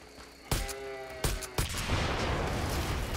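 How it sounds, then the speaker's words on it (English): An explosion destroys a wolf beacon in the video game Far Cry 5, with three sharp blasts in quick succession followed by a sustained rumbling roar of debris and fire. "get away from the explosion."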